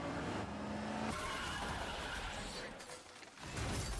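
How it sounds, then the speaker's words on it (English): A car slams into another car from the side, with tires skidding and squealing and a crunching, shattering impact amid engine noise, loud and close, fading briefly before the noise returns. "A car slams into them from the side."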